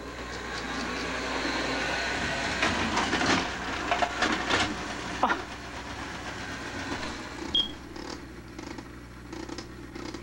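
Small model trains rattle and click along their track with a continuous whirring hum, joined by intermittent clacks and scrapes.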